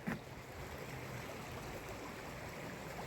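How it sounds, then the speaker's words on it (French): A small stream flows steadily in countryside near Elche, a soft continuous rushing and trickling wash, fairly faint, with a brief bump at the start. "Petit ruisseau."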